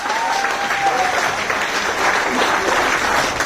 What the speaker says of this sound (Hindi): अगर आप तैयार हैं तो एक बार अपने लिए जबरदस्त तालियां बजा लीजिए साहब